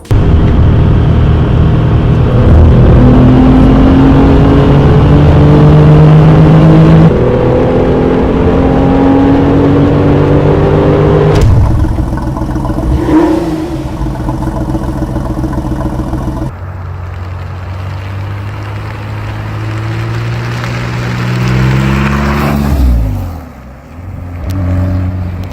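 A Porsche 911 Carrera 993 with its air-cooled flat-six in the Need for Speed Porsche Unleashed racing game, loud and close, idling then revving through rising gear pulls, with sudden cuts between engine passages and no talk.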